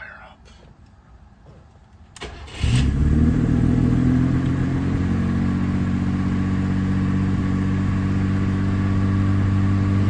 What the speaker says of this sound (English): give her a couple pumps, and she will hopefully fire up